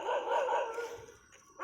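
A stray dog barks and yips close by, a short burst of high, strained calls that fades into quieter whimpering, with no talk.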